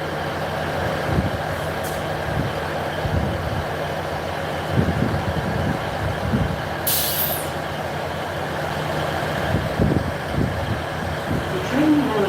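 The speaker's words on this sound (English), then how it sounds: "The train now approaching platform 1 is the 1641 ScotRail service to Dundee." Two-carriage ScotRail diesel train, class 158, approaching a station platform with a steady low engine rumble and a sharp hiss of air brakes, while people talk nearby.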